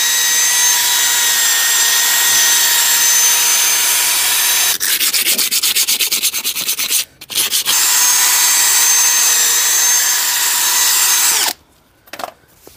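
A wire brush spun on a power drill scrubs the face of a Skoda 120 front brake disc, giving a loud continuous abrasive whirr close up, with two brief pauses midway and near the end.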